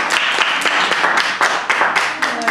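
Lively clapping from a small group in a classroom-style teaching session as a participant is congratulated on winning a prize, close and fairly loud with irregular sharp hand claps throughout a couple of seconds.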